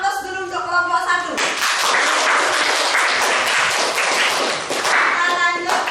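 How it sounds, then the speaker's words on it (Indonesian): A classroom audience claps for a presenting student group: a brief voice first, then a loud burst of applause that holds for several seconds before tapering off. "Kasih aplaus dulu untuk kelompok 1."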